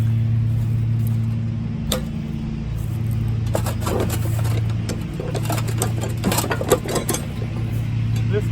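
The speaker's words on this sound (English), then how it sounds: "This tire machine, I think it was made in the 1940s." A 1940s tire changing machine runs with a steady low mechanical hum and a rapid ticking clatter, sounding close and continuous throughout.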